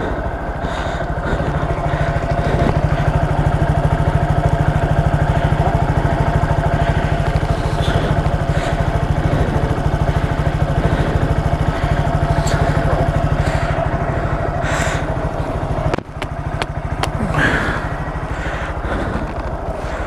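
A motorcycle engine idles steadily and close, a constant low rumbling chug with faint clatter, running throughout with a brief dip near the end.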